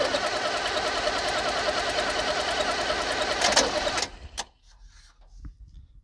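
A 1978 International Scout II diesel engine cranks on its starter without firing, giving a loud, close, rapid rhythmic churning for about four seconds before it abruptly cuts off into near quiet with a few small clicks.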